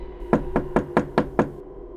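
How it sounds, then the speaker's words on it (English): Six soft, evenly spaced knocks on a house door, muffled and close, with no voices. "A soft knock on my door."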